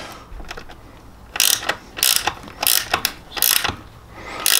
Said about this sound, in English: Grab our 8mm speed wrench.